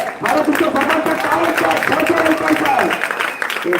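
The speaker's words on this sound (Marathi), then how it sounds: "हे प्रेक्षक आलेले ते टाळ्या वाजवत आहेत" Spectators at a cricket match applauding steadily, a dense crowd of clapping mixed with voices and a louder announcer-like voice speaking over it throughout.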